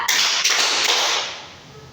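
Claps from a classroom counting clap game, a few broad bursts that blend together and then fade out.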